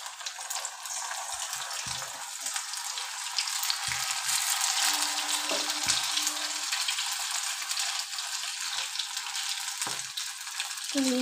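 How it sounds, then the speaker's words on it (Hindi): Pakoras made from leftover batter sizzle and fry steadily in hot oil, a continuous crackling hiss throughout with a brief faint tone partway through and no talking. "तो हम उसे बंदा को भी काट के उसका पकौड़ी बना रहे हैं हम लोग के लिए।"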